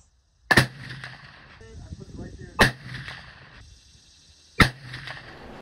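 An Optima V2 muzzleloader rifle fires Nosler 300-grain spitzer bullets at an outdoor target range: three sharp, loud shots spaced about two seconds apart, each with a brief echoing tail.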